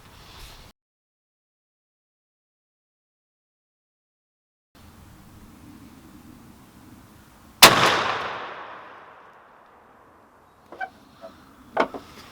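A single loud shotgun blast from a Stoeger M3500 loaded with Longbeard XR turkey shells, fired at a 40-yard target outdoors. The sharp crack decays into a long ringing echo, followed by a few softer clicks and knocks.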